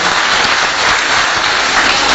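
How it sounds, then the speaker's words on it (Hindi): Loud, dense applause from an audience clapping for topper students at a ceremony, a sustained even roar of many hands with no pauses. "मैं चाहूंगा कि उन टॉपर बच्चों के लिए जोरदार ताली आप सभी बजा दें।"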